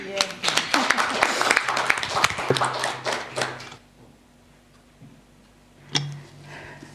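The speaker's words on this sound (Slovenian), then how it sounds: "Vredno enega aplavza, ne?" An audience at a panel discussion in Slovenia's National Council, held for International Women's Day, claps in a dense burst for about four seconds that then fades to quiet, with one later isolated knock.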